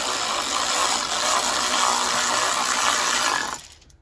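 A power tool whirs steadily for about three and a half seconds as it drives a self-tapping tech screw into the plastic under tray of an Alfa Romeo Giulia, then cuts off abruptly, heard close up with no talk.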